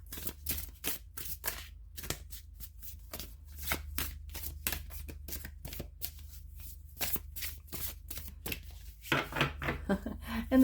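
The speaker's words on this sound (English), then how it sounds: "It might be because I have longer cards that I'm using, so I'm shuffling them long ways" Elongated tarot cards are shuffled lengthwise in a steady run of crisp, close riffling flicks and slides, with no talk, ending in a slightly louder burst of card handling.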